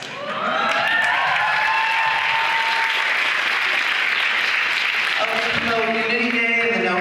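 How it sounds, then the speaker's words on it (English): A senior class gives sustained, dense applause at an honors convocation, loud and steady for several seconds with some cheering voices mixed in near the end. "Cue applause by the senior class."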